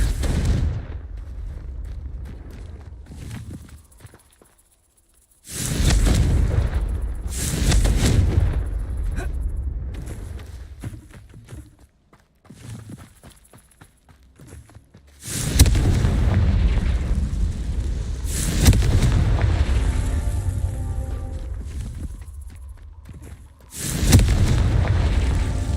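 Confringo spell blasts in Hogwarts Legacy, several loud booming bursts in separate clusters with quieter gaps between, each blast heavy and close.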